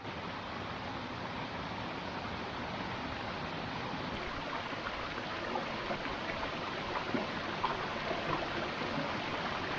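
The Pindar river in Uttarakhand flows below a campsite, a continuous broad rushing of water that holds steady and fairly loud throughout, with no voices over it.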